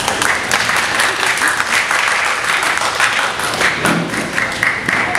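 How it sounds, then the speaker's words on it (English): Audience at a Model UN conference clapping steadily for several seconds, a dense continuous patter of many hands filling a hall, with faint crowd murmur underneath. "Would you please clap for them?"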